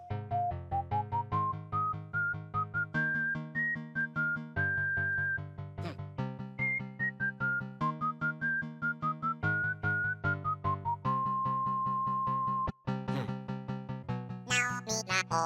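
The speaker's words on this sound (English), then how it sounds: "we're about to have a whistling time with KK" Melodic whistling by K.K. Slider in Animal Crossing: New Horizons, a clear continuous tune over steady backing music, loud and sustained throughout with a brief higher chime near the end.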